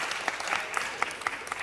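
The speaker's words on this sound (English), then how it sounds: "Please give him another round of applause." Audience applause at a city council meeting, a steady wash of clapping hands filling the room for the full moment, with a few sharper claps standing out, no talking over it.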